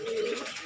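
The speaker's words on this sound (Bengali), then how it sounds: "হ্যাঁ, এই কবুতরগুলো আপনাদেরকে আমি দেখাচ্ছি।" A pigeon coos once in a short, close call at a bird farm where pigeons are kept.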